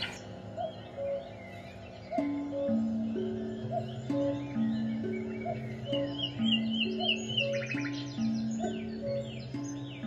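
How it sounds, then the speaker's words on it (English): Bird whistle chirps and trills over a prepared piano score with held, sustained piano notes, the whistled calls rising in the upper range, clear and fairly close. "a beautiful bird whistle"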